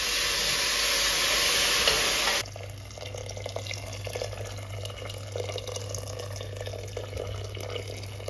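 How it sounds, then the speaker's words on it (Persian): Boiling water is poured onto sautéed lentil soup ingredients in a pot, a loud rushing pour that stops abruptly, followed by a steady hissing simmer. "آب میریزیم روی موادمون تا شروع کنه به پختن."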